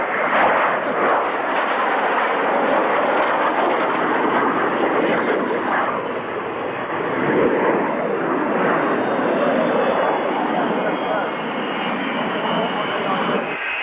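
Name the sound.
jet fighter aircraft flying past at an airshow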